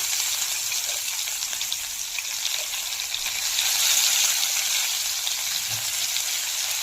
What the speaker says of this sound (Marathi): याच गरम तेलामध्ये आपण थोडे खडे मसाले, कांदा,